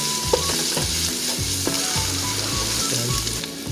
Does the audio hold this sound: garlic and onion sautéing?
yes